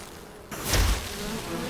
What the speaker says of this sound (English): There are way too many bees around here.